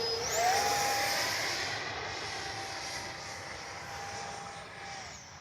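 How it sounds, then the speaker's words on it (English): An Arrows Avanti S 50mm RC jet flying over a park gives a high, sustained electric-fan whine that sweeps up in pitch as it passes close, then holds and fades slightly toward the end. "Not bad for a little plane that doesn't have any rudder."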